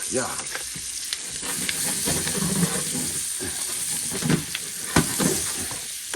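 Fresh asparagus spears sizzle and fry in a hot pan, a steady close crackling hiss with a few brief louder spits and stirring knocks along the way.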